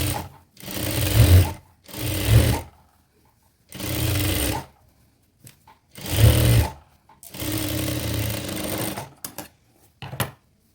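A sewing machine runs top stitching along a folded collar in close, loud bursts, about five runs of a second or so each separated by short pauses, with no talk.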